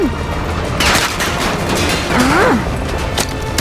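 Gunfire in Call of Duty Modern Warfare 2 Remastered, a dense fusillade of loud rifle shots and bursts that swells at about one second and again near two and a half seconds over constant battle noise, with a rising whine mixed in.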